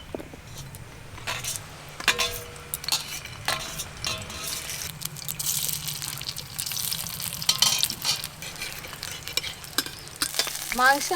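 Momos frying in white oil on a tawa, a steady crackling sizzle with scattered stirring scrapes and clinks throughout, fairly close and with no talk.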